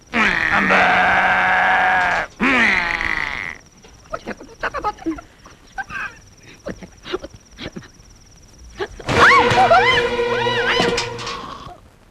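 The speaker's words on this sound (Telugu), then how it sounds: "ఆవు దూడ అరుస్తున్నాయి." A cow and calf moo in long, drawn-out calls, two at the start and another later. Between them come quiet clicks and handling noises.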